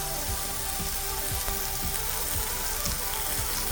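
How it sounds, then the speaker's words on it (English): A big sirloin steak sizzles in a screaming hot pan, a dense steady crackle and hiss with faint pops and spatters running throughout, close and without voices. "That nice sizzle and a screaming hot pan. Nice big old sirloin."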